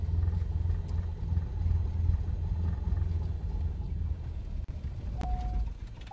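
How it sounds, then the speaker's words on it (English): A small airplane's piston engine runs at a low, steady rumble close by, then winds down and cuts off near the end, followed by a short beeping tone from the cockpit. "And the engine is about to go off."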